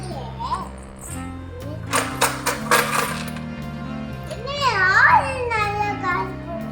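Coins drop into a money box in a quick burst of metallic clinks, loud and close, while children chatter and a tune plays in the background.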